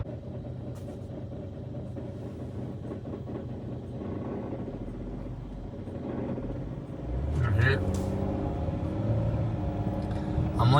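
A car idles at low RPM with an odd, uneven noise, giving a steady low rumble that swells slightly toward the end as a person talks over it.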